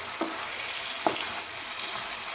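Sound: shol fish being braised in a frying pan

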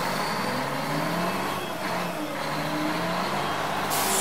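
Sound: garbage truck driving off

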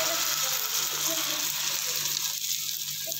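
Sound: egg poured into hot olive oil in a pan

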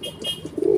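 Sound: pigeon cooing

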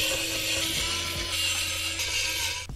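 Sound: unscrewing six flat-head screws from a keyboard

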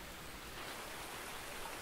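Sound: light passing rain in Farming Simulator 19 video game

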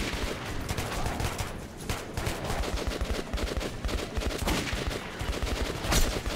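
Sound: gunfire in video game Metro 2033 Redux

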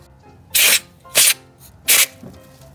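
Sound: compressed air spray blowing debris away from ignition coil

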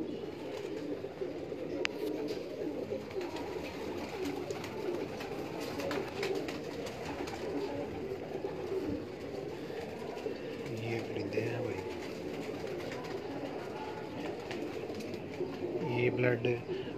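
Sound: pigeons cooing

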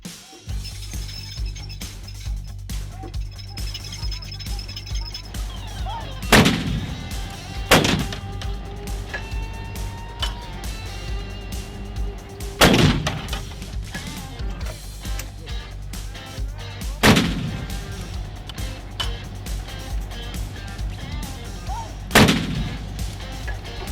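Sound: archival recording of artillery guns firing

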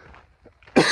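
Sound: light cough

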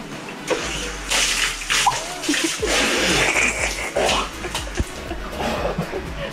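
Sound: cold shower running water

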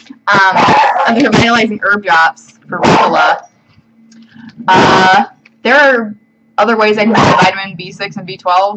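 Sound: dog barking

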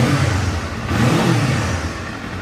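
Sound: Kawasaki Z500 SE motorcycle engine revving

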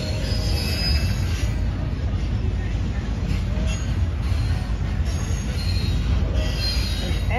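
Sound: train stopping on railway siding

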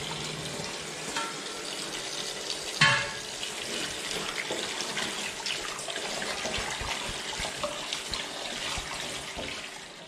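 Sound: rinsing cut bamboo shoots under running water

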